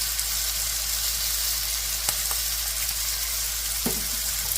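Beef stir-fried with sesame oil and oyster sauce sizzles steadily in a hot pan, close and loud, with a couple of brief clinks as it is stirred and no voices.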